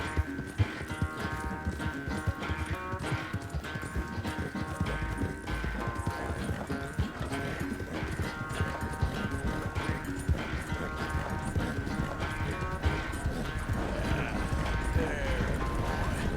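Horse hooves clip-clop at a steady galloping rhythm throughout in Red Dead Redemption 2, close and continuous, with a voice talking over the hoofbeats.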